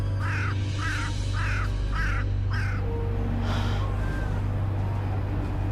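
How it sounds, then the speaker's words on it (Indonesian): A crow caws five times in a quick, even series over a steady low rumble of traffic, then the calls stop. "Suara burung gagak."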